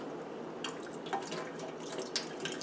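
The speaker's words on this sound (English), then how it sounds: "I want to have the water kind of flush through" Tap water flushing through an N95 respirator mask held under a faucet, a steady close running-water hiss with occasional splashes and drips, no voices.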